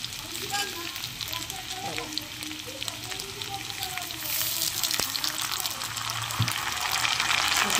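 Spice paste goes into a pan of vegetables already frying in oil for a fish curry with raw banana, papaya and potato, giving a continuous close sizzle that grows louder and busier toward the end, with stirring scrapes throughout.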